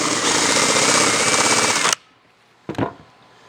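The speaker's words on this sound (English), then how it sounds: "I am drilling a hole right down into the center of this." A power drill bores into a wooden 4x4 block, a loud, continuous grinding whir that stops abruptly, followed after a pause by a brief second burst.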